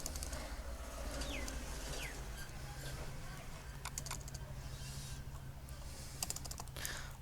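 Rapid clicking of keys on a computer keyboard while an SEO tutorial is written, steady and close throughout, with faint bird chirps behind.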